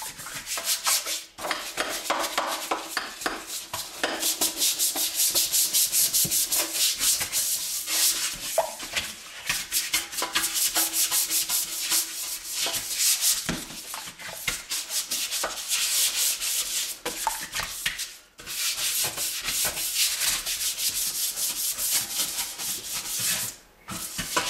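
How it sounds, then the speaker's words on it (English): A brush lightly scrubs a stainless steel sink in a steady, close, continuous swishing rub, broken only by a few brief pauses. "I'm not even scrubbing. I'm just lightly brushing it."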